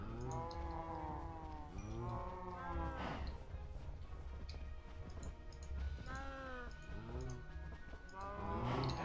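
Cows mooing in a video game, several long, drawn-out moos in a row with short gaps between them, moderately close, over a low steady background rumble.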